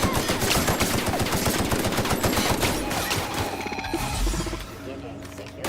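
Rapid automatic gunfire in the video game The Outer Worlds sounds in dense, loud bursts that rattle on for several seconds, then gives way to mechanical clanks and softer game effects.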